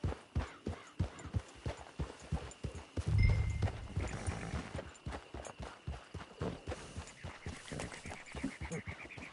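Horse hooves clip-clop in a steady, rhythmic gait in the video game Red Dead Online, close and distinct, with a brief louder rumble partway through.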